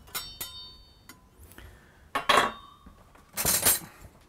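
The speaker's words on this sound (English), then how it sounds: "the best way is just to spoon this out" Spoon scraping and clinking against a dish while scooping out Welsh shepherd's pie: a few sharp metallic ticks and two louder scraping clatters, close and otherwise quiet.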